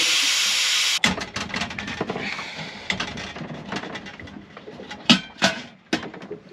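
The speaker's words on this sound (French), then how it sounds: "on va faire sortir la vapeur." Steam is released from a cooking pot aboard a sailboat. A steady loud hiss runs for a second and cuts off, followed by sputtering bursts and clanks, with several sharp louder spurts near the end.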